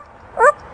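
A parrot imitates a dog with a single short, whiny bark-like yelp, close and clear against a quiet room.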